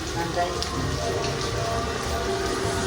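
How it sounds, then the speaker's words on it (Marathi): Rain falls steadily in a dense, even hiss with scattered drops, continuous and fairly close, without any clear voices above it. "पाऊस पण खूप आहे"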